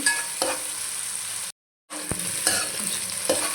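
Cashew nuts fry in hot oil in a pan for a function-style chicken fry, giving a steady close sizzle with a few stirring scrapes and a short silent gap midway.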